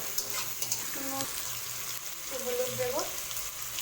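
Prawns fry in a pan for taro leaf paste, giving a steady close sizzle with a few stirring clinks, while a voice speaks briefly over the cooking.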